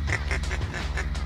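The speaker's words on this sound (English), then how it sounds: "Got the calls going, got the ducks flying" Repeated duck quacks during a morning duck hunt, about five or six nasal calls in a steady rhythm over a constant low hum, fairly close and loud.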